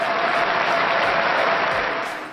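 An audience bursts into loud, dense applause and cheering that stays at full strength throughout before tapering slightly at the end.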